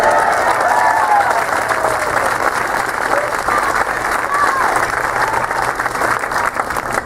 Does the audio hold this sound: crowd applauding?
yes